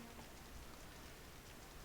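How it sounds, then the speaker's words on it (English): Steady rain falling in the video game Final Fantasy 8, a faint, even hiss of drops on a surface that runs continuously without other sounds. "Young Squall out in the rain"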